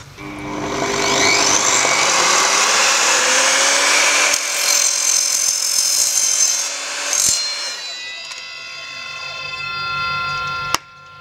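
An Evolution R255SMS mitre saw cuts through a piece of PVC tube with a loud, sustained whining roar and rasping cut that lasts several seconds, then the motor winds down, ending with a sharp click.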